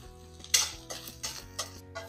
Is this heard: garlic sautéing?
yes